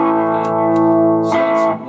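Electric guitar through a Roland GA-212 amplifier with the reverb switched off, a sustained distorted chord held loud and close, then a fresh strummed attack near the end.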